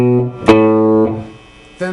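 Plucked guitar notes from a blues intro, a few clear sustained tones with a sharp attack mid-way, ringing out and fading before another note starts.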